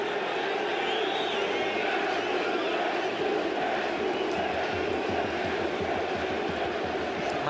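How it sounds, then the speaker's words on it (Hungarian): Fans in a Diósgyőr football stadium chant together for a player, a loud, dense roar of voices with a rhythmic pulse that builds in the second half. The chanting carries on steadily from start to finish. "Már is Luque-t követeli a közönség."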